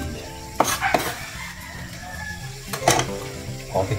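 Pinakbet vegetables sizzle steadily in a pan while a utensil stirs them. Several sharp scraping clanks against the pan rise above the frying hiss.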